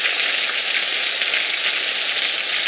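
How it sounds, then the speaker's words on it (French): Heavy rain and hail pour down during a storm in the Var, France, as a dense, steady hiss of drops and pellets hammering surfaces close by, loud and unbroken. "il tombe toujours autant de grêle et de pluie"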